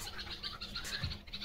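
Sparrows chirp in short, repeated bright bursts at a moderate distance, a busy run of quick calls over faint background hiss, with no voices.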